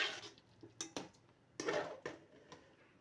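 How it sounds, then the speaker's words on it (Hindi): Metal spoon stirring garam masala powder into a pot of beef kofta curry, giving several scraping clinks against the pot at an uneven pace, close and moderately loud with no talking. "अब हम इसमें ऐड कर देंगे गरम मसाला पाउडर और इसको थोड़ा सा मिक्स करेंगे।"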